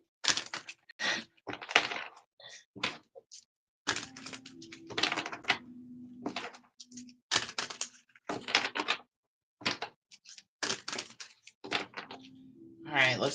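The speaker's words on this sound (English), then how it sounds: "This is how I shuffle the oracle cards." Large oracle cards being shuffled by hand, giving bursts of crisp papery riffling and slapping that come and go in short runs, close by, with a person talking over parts of it.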